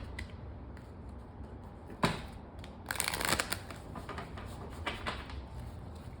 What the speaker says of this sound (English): They're having me cut the deck.